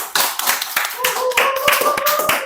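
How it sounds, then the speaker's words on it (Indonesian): A small audience claps together in a podcast studio, a burst of fairly loud applause with sharp hand claps in a short run, mixed with a voice and a sustained vocal tone over it. "Oke, tepuk tangan dulu pemirsa."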